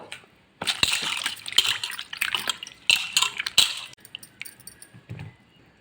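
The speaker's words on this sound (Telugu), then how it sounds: "మరొకసారి నీళ్ళు చేంజ్ చేసుకొని మరొకసారి కడుక్కోవాలి" Bitter gourds being washed by hand in a bowl of fresh water: repeated splashes, drips and wet squishes, close and fairly loud in bursts, with brief quiet gaps between handfuls.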